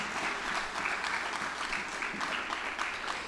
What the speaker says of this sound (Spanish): Dele palmas al Rey.